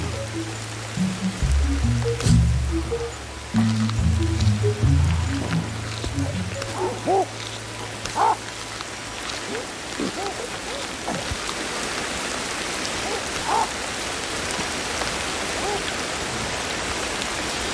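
Steady rain falls in the prehistoric survival game Ancestors: The Humankind Odyssey, a continuous hiss of drops with a few low game tones and clicks early on.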